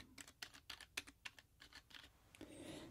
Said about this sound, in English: clickety-clackety keyboard